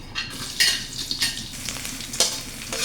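Garlic sautéing in a pan for monggo with chicken feet, a close, busy sizzle with repeated stirring scrapes and light utensil clatter, no voices.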